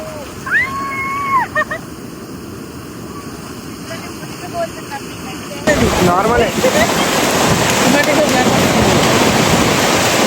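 Loud, continuous surf roar washes in, rising sharply partway through as waves break nearby, with faint voices and wind underneath.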